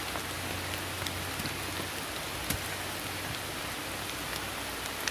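Rain falls steadily outdoors, a continuous even hiss of drops with occasional louder single drips close by and no voices.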